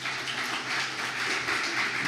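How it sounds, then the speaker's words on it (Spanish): Church congregation applauding together, a steady dense wash of clapping held at even loudness for about two seconds with no voices over it. "¿Alguien le puede dar un aplauso al Señor por eso?"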